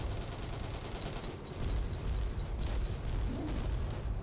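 Dense gunfire and battle noise from the World War 2 Online game Battleground Europe, a continuous loud, rumbling barrage of overlapping shots without clear separate reports.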